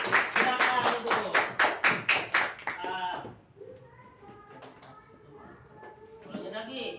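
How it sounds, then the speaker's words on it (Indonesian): Classroom round of rhythmic hand clapping, about a dozen quick, loud claps in a steady beat that stop abruptly, followed by quieter room noise and brief voices. "tepuk tangan"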